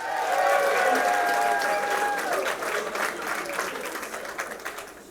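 Sustained applause from an audience at an academic awards ceremony, loud at first and slowly thinning out, with a voice speaking briefly over the clapping near the start.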